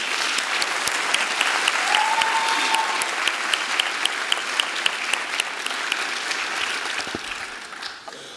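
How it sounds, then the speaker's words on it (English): A school district audience at an outstanding teachers ceremony applauds award sponsors with dense, even clapping that holds for about eight seconds and fades slightly at the close. "Let's give each of them a round of applause for their generosity."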